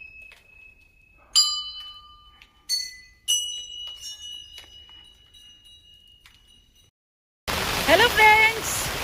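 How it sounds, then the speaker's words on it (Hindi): Metal temple bells at Gangnath Temple ring in several separate bright, resonant strikes that decay slowly. The strikes are close and clear over quiet surroundings, and a short burst of louder noisy sound comes at the end. "आस्था की घंटियां।"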